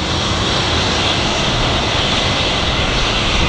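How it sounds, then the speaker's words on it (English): A Boeing 757 jet taking off at an airport gives a loud, steady, broadband engine roar that fills the whole clip with no break. "757 typically just absolutely rockets out of here."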